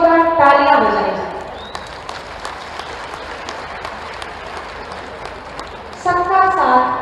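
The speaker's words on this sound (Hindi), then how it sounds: "पूरी ऊर्जा के साथ माननीय के लिए जोरदार तालियां बजाई जाए।" An audience at a public ceremony in Bahraich honoring Maharaja Suheldev's birth anniversary bursts into loud, sustained applause. A voice speaks just before the clapping starts and again as it fades.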